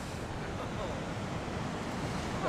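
Ocean waves break continuously on a storm-battered shoreline after Hurricane Sandy in Ocean City, Maryland, a loud, steady roar of surf mixed with wind buffeting the microphone, with no distinct pauses between breakers.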